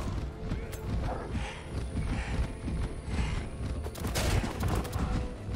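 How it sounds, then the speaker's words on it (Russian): Gunshots from ranged units in the strategy game Age of Wonders 4 crackle in a dense, rapid volley, mixed with hoof-like clatter and mechanical creaks, with a sharper burst near the end and no talk. "Вот с этой позиции мы делаем два выстрела."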